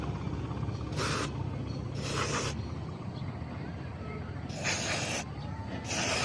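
A CVT/FI cleaner aerosol is sprayed in four short hissing bursts of about half a second each, close, over a steady low background rumble.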